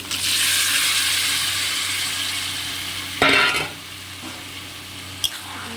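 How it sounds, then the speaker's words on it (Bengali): Malabar spinach and potatoes going into a pan of hot spice mix, sizzling steadily throughout with a brief louder burst of frying and a sharp utensil tap near the end, with no talking. "এরপর কষে রাখা পুঁই শাক আলু দিয়ে দেবো"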